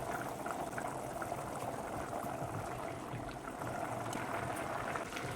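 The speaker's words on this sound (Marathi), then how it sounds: "हे बघा पाण्याला छान उकळी आली." Steady, dense bubbling and hissing of water at a rolling boil in a pot of rice, close and constant throughout with no talking.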